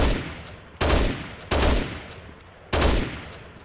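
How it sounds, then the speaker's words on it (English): A heavy machine gun firing at zombies in Dead Rising Deluxe Remaster: four loud, close bursts spaced about a second apart, each with a sharp attack and a short decaying tail. "I'm just like taking a little frustration out on these zombies with this heavy machine gun right now"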